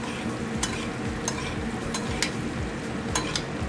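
Scallops sizzle steadily in butter in a hot pan, a continuous close frying crackle with occasional sharper pops and scraping stirs, no voices.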